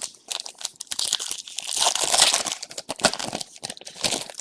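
A stack of trading cards is pushed and shuffled aside on a table, producing close, irregular crinkling and scraping rustles with sharp clicks that come and go in quick bursts.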